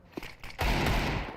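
Gunfire rings out in a Counter-Strike 2 esports match, a couple of quick sharp shots followed by a loud, dense burst of rapid fire lasting most of the brief moment, close and forceful.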